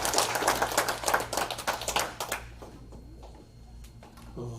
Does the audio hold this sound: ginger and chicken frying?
no